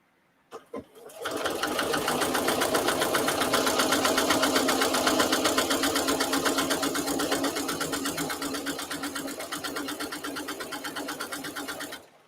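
A sewing machine stitches a placemat after a couple of clicks, then runs in one long, loud, steady burst of rapid needle strokes that slows slightly and stops.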